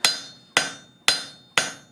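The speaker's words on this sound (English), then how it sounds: "Right now we're still using the cross peen as a hammer, because once again we're trying to get as much spread on this leaf as we can." A cross peen hammer strikes hot steel while forging and spreading the blade of a calla lily leaf, four sharp, evenly spaced ringing blows about half a second apart, close and loud with no talking.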